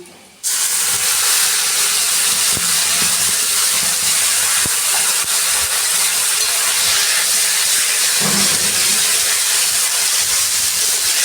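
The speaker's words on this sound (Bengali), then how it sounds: "এখন আমি দিয়ে দিচ্ছি যে মশলাটা করে রেখেছি দিয়ে দিচ্ছি" Spice paste drops into a hot pan of frying rice and erupts into a loud, continuous sizzle that holds steady and close for about eleven seconds, with no voices.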